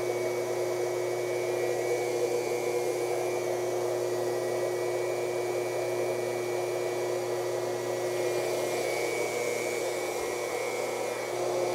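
High and low pressure pumps of a reverse osmosis system for maple sap run steadily as pressure builds to about 100 PSI, a constant loud whirring hum with a faint whine and no change throughout.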